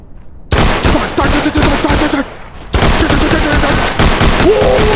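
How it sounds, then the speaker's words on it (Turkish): Dual pistols fire in a Roblox VR game, with rapid bursts of loud shots coming in dense volleys that break off briefly and then resume. "İkili tabancamla hepinizin içinden geçeceğim."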